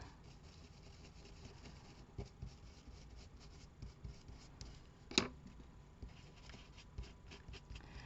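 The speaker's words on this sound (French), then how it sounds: "on va prendre le pinceau, on va dire. Voilà, et vous venez frotter comme vous avez fait tout à l'heure avec le scotch double face" A brush rubs deco flakes onto a surface in a quiet craft session, giving a faint, soft scratchy rubbing that goes on and off, with one sharper tap partway through.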